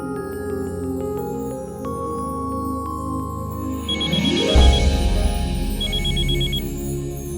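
A mobile phone left on a kitchen stove rings with a repeating electronic ringtone, steady and fairly loud throughout, joined by a swelling musical sting partway through, with no talk.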